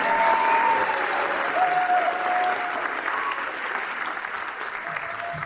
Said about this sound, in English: More round of applause for all these kids on stage